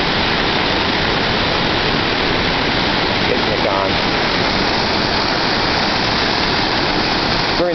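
Hungarian Falls, a woodland waterfall, roars as a steady, loud, dense wash of falling water that fills the whole clip with unbroken broadband rush, up close and with no other sounds standing out.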